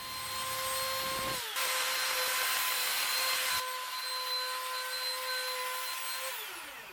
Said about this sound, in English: With a round over bit in the router, I just ease all the edges.